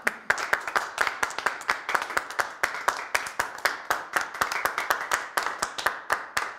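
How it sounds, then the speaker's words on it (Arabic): A small audience clapping for a retiree at a retirement celebration, a brisk, fairly even run of individual claps from a few hands, close and crisp, with no talking over it. "اما الان مع كلمة المتقاعد ابوي، صفقوا له."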